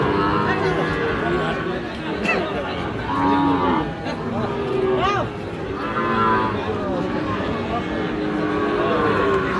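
Sahiwal cattle and bull calves low repeatedly at a busy cattle market in Ambari, with deep drawn-out moos rising over a steady hum of crowd chatter and people talking nearby.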